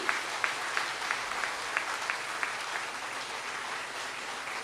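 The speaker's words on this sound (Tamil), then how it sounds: "ஒரு பெரிய கைத்தட்டல்களை பாராட்டுகளாக வழங்கி" Steady applause from a crowd, continuous and fairly even, with a few sharper claps standing out throughout.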